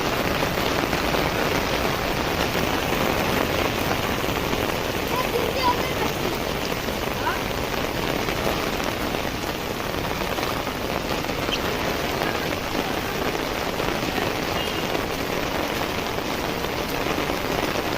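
Heavy rain pours down steadily and loudly, an unbroken hiss of drops on surfaces lasting throughout, near a floating temple.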